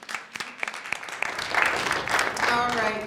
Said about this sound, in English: Another round of applause for the panel.